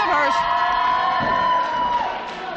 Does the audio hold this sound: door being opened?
no